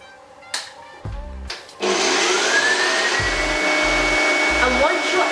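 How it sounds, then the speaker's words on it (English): An electric mixer starts up and runs steadily at high speed, whipping eggs to soft peaks for a strawberry mousse, a continuous loud whirring drone after a few short bumps and knocks. "it's time to turn on your mixer to a high speed until your eggs reach"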